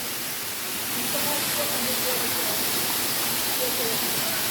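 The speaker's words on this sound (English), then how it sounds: "Bamboos just creeping over the waterfall there." Argyle Waterfall in Tobago, with bamboo growing over it, gives a continuous broadband roar heard from close by, steady and unbroken throughout.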